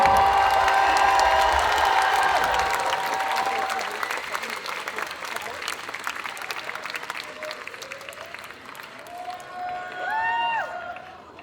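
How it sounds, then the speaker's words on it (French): Crowd applause with cheers and whoops at a cosplay contest during a Japanese pop-culture convention, loud at first then thinning to scattered clapping while voices and whistles rise over it. "Est-ce qu'on peut les applaudir pendant qu'ils s'installent?"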